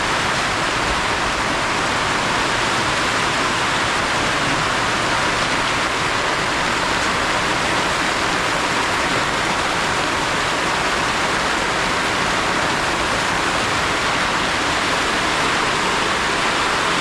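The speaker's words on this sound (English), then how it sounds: "Raining a lot." Heavy rain pouring down in Kenya, a loud, dense and unbroken roar of downpour filling the whole stretch without any voices.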